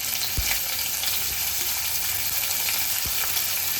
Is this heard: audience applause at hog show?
no